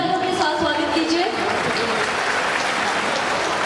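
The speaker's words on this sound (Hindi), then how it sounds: "जोरदार तालियों के साथ स्वागत कीजिए" A crowd claps loudly to welcome the president of the Maa Vaishno Devi Seva organisation at a mass wedding programme for 51 couples; the applause runs steady and close, with some voices mixed in.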